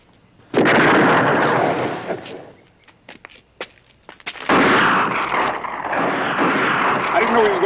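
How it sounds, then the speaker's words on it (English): Gunshots in a western drama: two loud, sudden blasts with rumbling, echoing tails, separated by a few seconds of quieter scuffs and knocks. "I didn't know he was gonna shoot."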